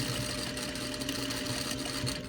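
A sewing machine hums steadily up close while stitching elastic onto a fabric face mask, a continuous motor whir with no pauses.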